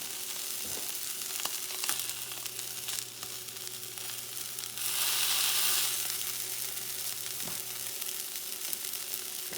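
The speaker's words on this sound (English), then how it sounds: "And letting it cook." Thick-cut Japanese wagyu beef steak sizzling in a pan, a steady soft crackle and hiss throughout with a brief louder burst of spattering midway and occasional small pops.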